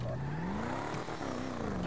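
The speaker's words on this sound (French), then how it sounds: "Elle a un bon son moteur." A turbocharged Albany Virgo car engine in GTA V drones steadily, its pitch slowly rising as it revs up, dips briefly, then climbs again, loud and close throughout.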